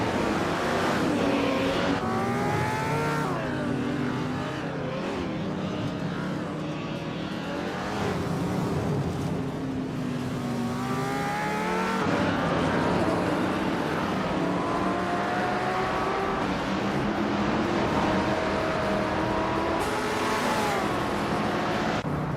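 Engine of a 1969 Ferrari 365 revving continuously in a racing video game, with rising and falling gear pitches and other race cars close by, steady and loud throughout.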